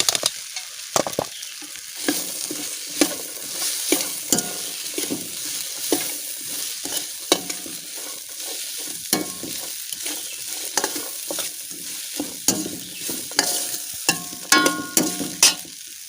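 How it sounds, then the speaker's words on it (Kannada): Chopped beans fry with softened tomato in a pan for a beans palya, with a steady close sizzle and repeated scraping stirs of a spoon against the pan, and no talking. "ಇವಾಗ ನಾನು ಕಟ್ ಮಾಡಿಟ್ಟಂಥ ಬೀನ್ಸನ್ನು ಇದಕ್ಕೆ ಹಾಕಿ ಹೇಳ್ತಿದ್ದೇನೆ"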